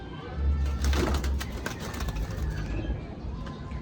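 Pigeons, Punjabi malwai and Madrasi breeds kept for flying and sale, cooing in low throaty rolls nearby, mixed with rustling and faint background noise.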